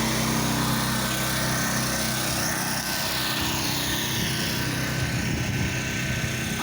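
A pressure washer rinses concrete, giving a continuous loud hiss and spray with a steady engine drone and no talking.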